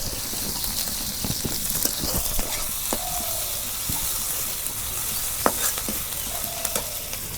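Green chillies and onion frying in oil, a loud steady sizzle with bright crackling hiss close up, broken by occasional clinks and scrapes of stirring.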